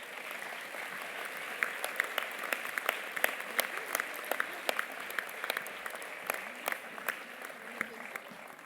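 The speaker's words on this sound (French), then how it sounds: "Ils méritent aussi qu'on les applaudisse pour leur engagement." An audience applauding the youth municipal council on stage at a town New Year's greetings event in Herblay, a steady roll of clapping with sharper individual claps standing out, moderately loud, and some voices mixed in.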